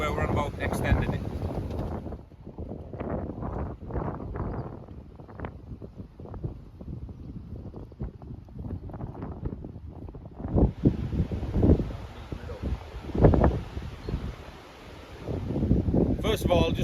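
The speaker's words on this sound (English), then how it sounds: "I'd just like to apologise if you can't hear us properly over the wind" Gusty wind buffets the microphone outdoors on a small farm, rumbling in uneven bursts while people talk underneath.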